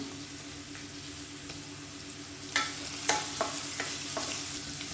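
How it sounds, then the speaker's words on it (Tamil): Onions, garlic and salt sauté in a pot, a low continuous sizzle broken by several crisp stirring scrapes in the second half, fairly close and with no talking. "வெங்காயம் நல்லா வதங்கிடுச்சு"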